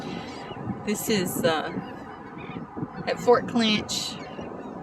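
Several loud honking squawks from birds, like geese, burst out in clusters over someone speaking and a light breeze at a beach on Amelia Island, Fernandina Beach, Florida.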